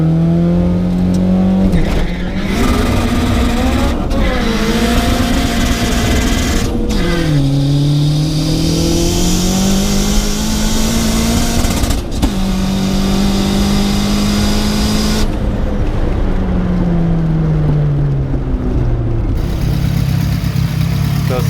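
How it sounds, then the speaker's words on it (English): A car engine with a leaking exhaust manifold revs repeatedly, rising and falling in pitch, loud and close with a raspy, ticking exhaust edge throughout. "So it sounds like it's blowing by the exhaust manifold."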